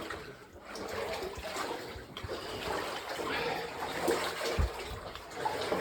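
Water sloshes and splashes continuously as someone wades thigh-deep through a flooded lower adit of the Independent Mine near Silverton, with steady churning close by and occasional heavier plunges.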